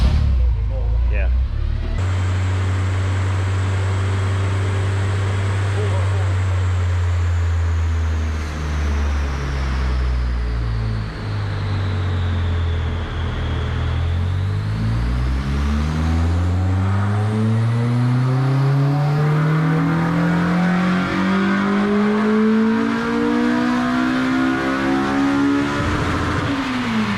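A Honda Civic EJ9 with a swapped K20 engine runs on a dyno, a loud, steady drone that dips, then climbs in a long sweeping rev as the pull builds toward the end.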